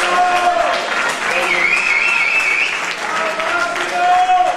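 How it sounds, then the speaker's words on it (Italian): A crowd at a youth cycling road race applauds the winner, sustained clapping from many people that runs throughout, with an announcer's amplified voice and a tonal whistle-like sound over it. "facciamo un fortissimo applauso a Massimo Graziato"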